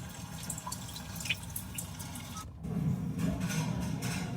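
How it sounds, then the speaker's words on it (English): Rainy day ambience played through a 2021 Genesis G80 car audio system: a soft, steady patter of rain with scattered droplet ticks, filling the cabin quietly and thickening slightly partway through. "Rainy day."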